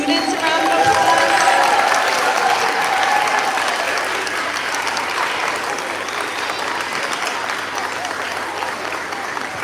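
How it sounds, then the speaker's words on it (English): Schoolchildren and grown-ups at a school gathering applauding the students, a dense, sustained clapping from a large crowd that stays loud from start to finish. "Grown-ups, can we give the students a round of applause?"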